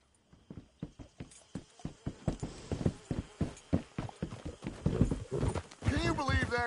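Horse hooves clip-clop steadily at a trot while riding in the video game Red Dead Redemption 2, close and rhythmic throughout, with a brief whinny near the end and voices talking over the hoofbeats.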